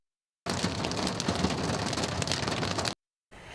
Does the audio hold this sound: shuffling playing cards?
no